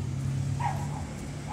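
A dog gives a brief, faint yip or bark on a New York street on a dark evening, over a steady low hum of city background noise.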